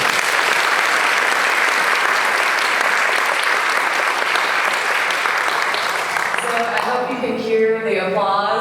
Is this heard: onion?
no